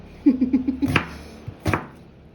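Onions are chopped for a prawn noodle dish, with a quick run of knife taps on a board followed by a couple of heavier, sharper chops, close and distinct with no talk.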